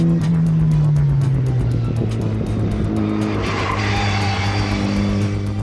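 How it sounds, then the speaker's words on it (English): A 225 bhp front-wheel-drive Mini races on a track with a loud, sustained engine note that drops and then climbs again. Tyre squeal runs through it, heard up close with no talking. "throwing 225 brake horsepower through the front wheels of a Mini has got to create some torque steer issues"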